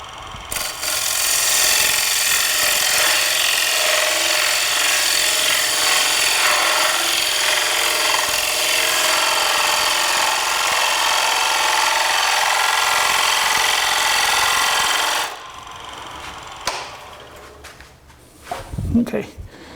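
A lathe gouge cuts into a spinning Baltic birch plywood chuck on a shop-made wood lathe, giving a loud, steady, harsh rasping roar for about fifteen seconds before it stops and a few scattered knocks follow.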